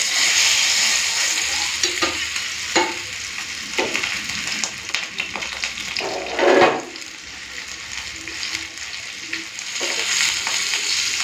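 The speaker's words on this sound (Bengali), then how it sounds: "ঢাকা দিয়ে দিয়ে ভাজতে হবে, তাহলে ভালো মতো মাছগুলো একটু মানে সেদ্ধ হবে।" Spice-marinated tandoori fish fries in a frying pan, hissing and crackling steadily up close, with scattered clinks and one louder burst of sizzle midway.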